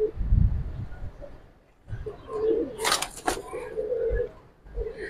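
Silver Giribaz and Bagha pigeons coo softly in a loft amid low rustling, with a brief burst of flapping or scuffling partway through and quieter murmurs around it.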